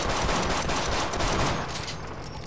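Dense enemy gunfire in They Hunger, a rapid continuous fusillade of shots that stays loud and close throughout before easing slightly at the end.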